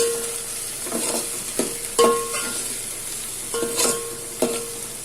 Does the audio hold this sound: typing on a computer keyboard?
no